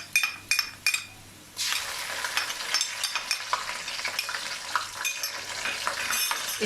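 Ginger garlic paste hits golden fried onions in a pan for vegetable rice: a few spoon clinks first, then a steady, close, loud sizzle and crackle with stirring scrapes throughout.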